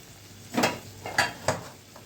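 Tomatoes and chillies drop into a pan of frying garlicky vegetables, giving three soft close thuds and sizzles spaced about half a second apart over a quiet background.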